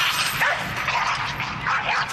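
A little dog barking in quick yipping bursts, fairly loud and close, with a busy noisy background.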